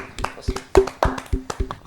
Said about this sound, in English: let's clap it up for the boys